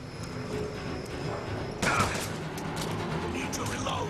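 Gunfire in a BioShock Infinite shootout, a sharp burst of shots cracking out over background game noise and music, followed by scattered smaller impacts.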